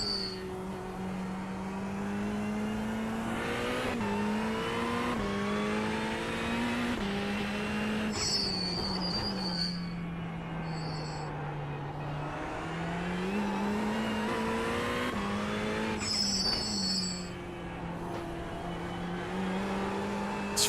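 A Ferrari race car in iRacing roars steadily at high revs, the engine note rising and falling through gear changes, with a tire squeal breaking through twice, loud and continuous with no talk.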